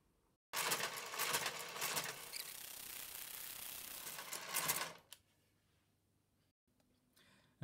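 A Brother KG95 knitting machine carriage makes one pass across the bed to cast off, a loud steady mechanical clatter lasting several seconds that stops abruptly, followed by near silence and a faint click.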